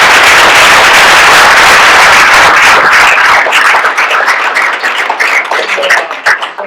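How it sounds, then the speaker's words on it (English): An audience bursts into a loud, dense round of applause at a gathering, the clapping sustained and close before thinning into scattered individual claps toward the end. "can we have a round of applause?"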